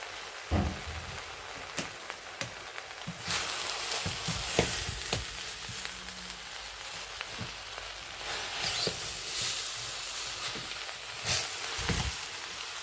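Basmati rice sautéed with turkey breast and small vegetables being stirred in a hot pan, a steady sizzle and frying crackle with scattered scraping clicks of the spoon, close and continuous without talk.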